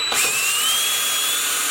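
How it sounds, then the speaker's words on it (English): A power drill fitted with a 1/2 inch bit bores a hole in a Jeep Gladiator long arm kit build, a loud continuous whine with a slowly rising pitch, close up and steady throughout, no voices. "So got a 1/2 inch drill bit, and I'm going to send it in right here."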